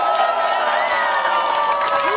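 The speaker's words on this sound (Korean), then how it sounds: "힘내시라고 큰 박수 한번 부탁드립니다" Outdoor election rally crowd cheering and clapping briefly, with whoops and raised voices over a steady murmur, a short loud burst of crowd noise.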